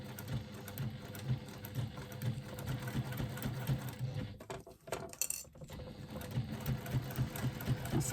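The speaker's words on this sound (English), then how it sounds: "I'm just going to do a back stitch at the beginning." A sewing machine back stitches hook and loop fastener onto a seat belt pad, a close, rapid mechanical chatter running in steady bursts with a short pause midway before stitching resumes.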